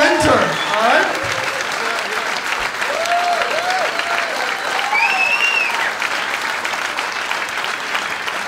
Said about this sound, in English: Jason John Whitehead, ladies and gentlemen, big round of applause.